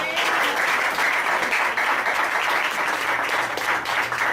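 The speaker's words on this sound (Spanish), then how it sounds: "Denle un aplauso a la hermana que sí estudia" A church congregation breaks into steady applause for a sister praised during the sermon, a dense, even wash of many hands clapping close by for several seconds.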